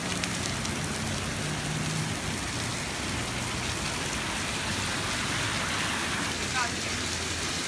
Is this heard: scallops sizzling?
no